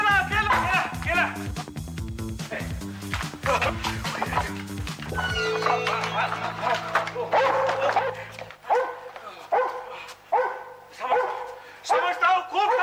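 A dog barks and yips repeatedly in a comic domestic scene, sharp loud bursts mixed with whimpers, heard over and between people talking and background music.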